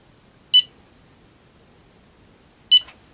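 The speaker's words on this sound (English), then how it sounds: "it does beep continuously, just a little bit, to let you know that all is well" Two short, high electronic beeps about two seconds apart from a DJI Tello drone, sharp and clear over a quiet background.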